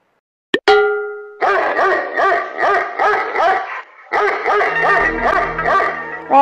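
Cartoon dog barking in a rapid run of loud, close yaps, with a short pause partway through and then more barking, no talking.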